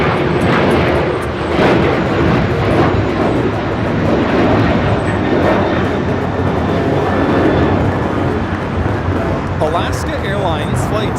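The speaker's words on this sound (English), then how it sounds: "Alaska Airlines Flight 6 taking off to Washington Reagan National on the 737-800" An Alaska Airlines Boeing 737-800 jet takes off at LAX, a loud, continuous engine roar throughout, with people talking underneath.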